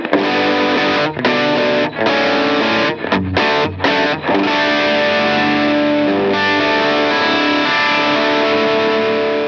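A loud, gritty distorted electric guitar through a Line 6 POD Go plays sustained chords with a few quick choppy stops, close and full, no voices.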